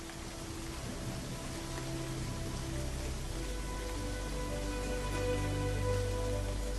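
Heavy, steady rain falls across wild lion country during the spring rainy season, forming a dense, continuous hiss that holds at an even level throughout, with no voices.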